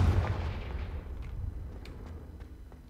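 A fiery Confringo spell bursts in the Hogwarts Legacy video game: a loud booming blast at the start that rolls off into a fading rumble, with faint sparkling crackles trailing behind.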